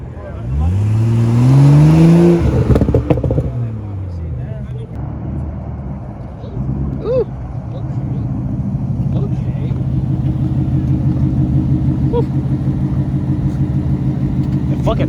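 A Ford 5.0 V8 at an outdoor car meet revs up sharply in rising and falling sweeps, then settles into a loud, lumpy rumbling idle, with people talking nearby throughout.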